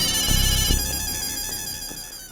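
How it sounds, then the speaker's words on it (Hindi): A phone ringtone plays steadily, a bright repeating melodic tone that carries on without pause, with soft low thumps underneath. "किसका फोन है?"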